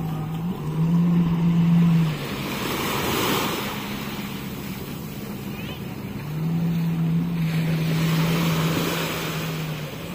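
Jet skis run on clear calm sea off Patong Beach, engine whine rising and falling in two surges over wind and lapping water, with a voice talking.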